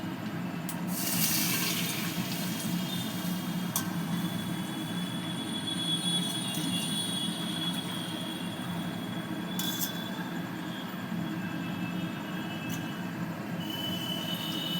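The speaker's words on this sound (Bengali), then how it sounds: "জল নিয়ে নিলাম।" Water pours into a pan for semolina paratha in a steady, continuous stream that holds at an even level throughout.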